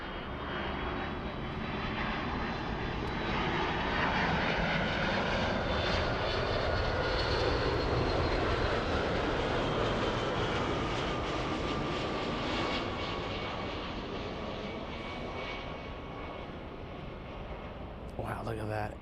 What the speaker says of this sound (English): So the Delta 757 flying in from Boston.